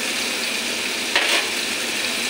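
Mashed olives being stirred with salt in a pan, a steady close sizzle and frying hiss running throughout with a brief scraping stir near the middle, no voices.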